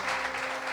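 Congregation applause at a Spanish-language church service, a dense steady wash of clapping filling the whole moment at close range.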